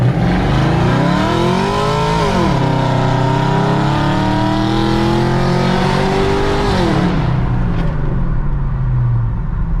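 A car engine revs hard at the start of a street race, with a loud, sustained roar that climbs and dips in pitch as the tires spin. The engine stays close and dominant throughout, then cuts off near the end.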